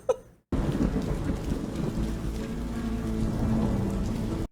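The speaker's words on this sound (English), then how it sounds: "I love a good rainstorm when troubles are brewing" A heavy rainstorm with thunder starts abruptly after a moment of near silence, dense rain hissing steadily while low thunder rumbles beneath, loud and sustained throughout with no talking.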